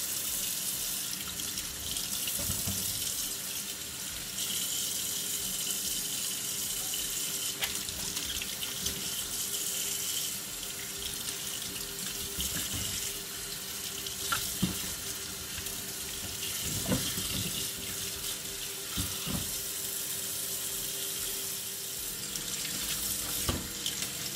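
Tap water runs steadily into a sink while celery stalks are rubbed and washed under the stream, a continuous close hiss and splash broken by occasional clunks and handling noises.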